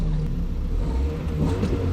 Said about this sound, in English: I like the stock exhaust.